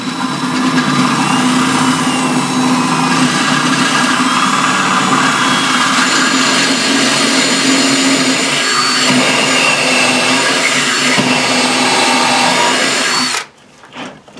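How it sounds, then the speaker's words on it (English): A power drill boring into wooden boards while building a mini conveyor dryer, a loud steady whine held close for about thirteen seconds before cutting off abruptly. "make sure your drill is straight"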